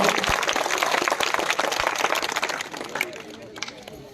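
Loud, steady applause from a crowd welcoming a guest at a school career guidance fair, dense clapping throughout with a few sharper claps standing out, thinning slightly toward the end.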